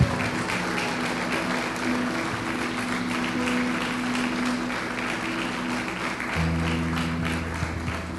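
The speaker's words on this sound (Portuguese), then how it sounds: "Pode aplaudir o nome do Senhor." Church congregation applauds during a sermon, a steady, fairly loud wash of clapping that runs throughout, with sustained organ or keyboard tones underneath.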